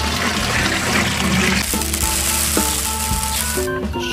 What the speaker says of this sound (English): Shake vigorously.